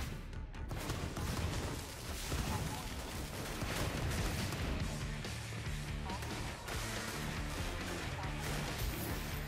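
Video game gunfire from Infamous Second Son, set in Seattle, rattling almost continuously under a dense wash of explosions, crashes and game music, with a voice speaking over it.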